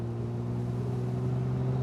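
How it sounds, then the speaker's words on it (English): A Triumph TR6's 2.5-litre, 150 bhp straight six hums steadily in third gear under light throttle, its smooth, even drone rumbling from the twin exhaust pipes. "you've got a glorious exhaust note that's just out of those twin exhaust pipes behind you"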